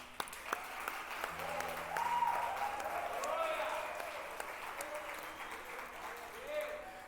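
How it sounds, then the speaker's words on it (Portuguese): A church congregation claps during a pastor's sermon, a soft, moderately distant patter of applause running throughout, with voices and a sustained tone mixed in underneath. "Vamos aplaudir antes de começar?"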